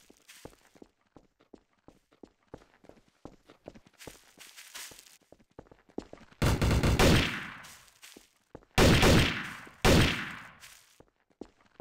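Shotgun blasts in Minecraft Trouble in Terrorist Town, three loud booming shots with long tails in the second half, preceded by faint rapid footstep clicks.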